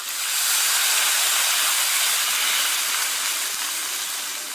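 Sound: water added to hot wok, steaming hiss

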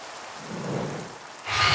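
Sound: rain at night in Minecraft, video game

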